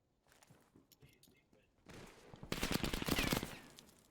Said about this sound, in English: Shots already being fired over at the pool.